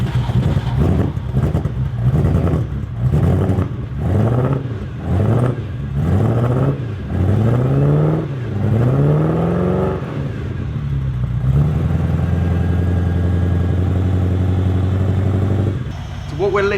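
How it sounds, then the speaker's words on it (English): A Ferrari 308 engine idles close by with a misfiring cylinder, its revs rising and dipping in a repeated pattern as spark plugs are pulled one at a time, before settling into a steady rumble, with someone talking over it. "What we're listening out for is a change of engine tone every time I take out a plug."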